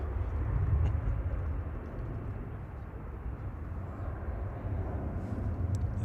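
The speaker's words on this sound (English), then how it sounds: "Ryanair departing in the background to Grenoble" A Ryanair airliner departs from Manchester Airport for Grenoble, heard as a low, distant jet roar that holds steady and sits faintly in the background.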